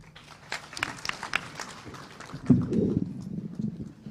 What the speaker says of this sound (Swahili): Tupigie makofi mwingine